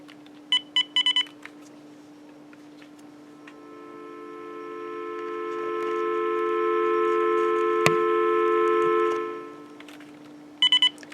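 On a Uniden EXS2080 900MHz DSS cordless phone, bursts of rapid button beeps are followed by a steady line tone that swells, holds with an interference tick, then stops before more short beeps.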